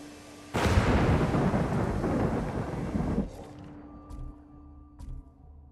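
A thunderstorm in the video game Ghost of Tsushima: a loud, close thunderclap rumbles for about three seconds, then fades into steady rain with a couple of faint clicks.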